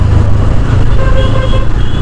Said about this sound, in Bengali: হর্ন যথেষ্ট লাউড, সিঙ্গেল হর্ন দিয়েছে